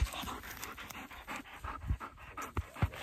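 A dog pants rapidly and steadily up close during early-season goose hunting, quick breathy huffs repeating in a fast rhythm with no one talking.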